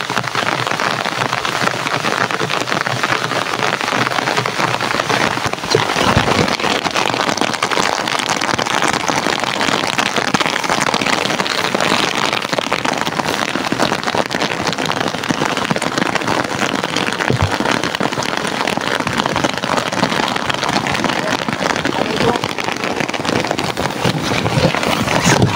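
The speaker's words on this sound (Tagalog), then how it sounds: "Grabe yung ulan mga idol, no?" Heavy rain pounds down without pause, a dense, loud, constant hiss of drops striking surfaces that fills the whole stretch with no voices.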